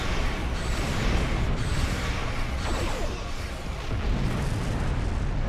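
Starship weapons fire in the space combat game Star Trek Online, a dense continuous barrage of booming blasts and whooshing bursts that stays loud throughout, with no pauses and no talk over it.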